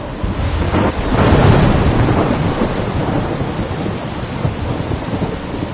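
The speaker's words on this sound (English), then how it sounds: "I'm trapped in a storm?" Thunderstorm in the video game Life is Strange: a loud, sustained roar of heavy rain with a rumbling thunder swell early on, continuous and dense throughout with no voices.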